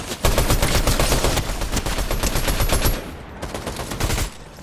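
Loud, dense automatic gunfire in Fortnite Chapter 5, a near-continuous rapid rattle that briefly drops off, then resumes before cutting out.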